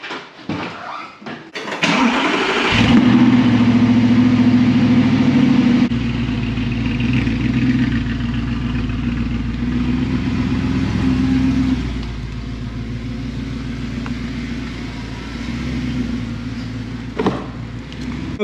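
An Audi R8 engine starts with a burst and revs loudly, then settles into a strong, steady rumble as the car pulls out, with a brief blip of throttle near the end.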